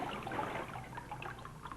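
Water washing over a lithographic stone, a soft trickling and splashing flow with small drips, fairly quiet and continuous, no talking.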